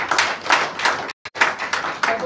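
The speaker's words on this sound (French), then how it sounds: "On peut applaudir pour la vie." A crowd at a Women's Day event in a hotel hall claps in bursts of rhythmic applause, moderately loud and close, cut by a brief silent gap before the clapping resumes.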